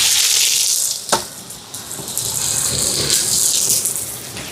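Onions with fennel seeds, chillies, curry leaves and garlic sizzle in hot oil, a bright steady frying hiss with a sharp clatter near the start and a stirring scrape partway through.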